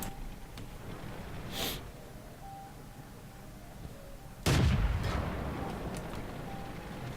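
The French S35 CA tank destroyer fires in the World of Tanks game, with two booming shots a few seconds apart, the second heavier and followed by a lingering rumble over a low engine drone.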